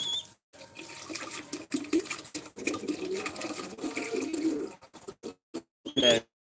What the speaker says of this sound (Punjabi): ਪਾਣੀ ਵੀ ਪੂਰਾ ਭਰ ਹੋ ਗਿਆ